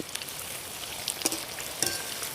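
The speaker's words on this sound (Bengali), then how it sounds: "এগুলোকে নেড়ে চেড়ে লাল লাল করে ভেজে নেব।" Palm fruit fritters (taler bora) fry in hot oil, giving a soft, steady sizzle with a few sharp crackles and pops.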